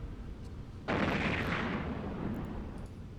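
Weapons fire hitting a missile tower in the space game EVE Online, heard as a sudden loud roar about one second in that holds as a steady rumbling wash of fire, with no talking.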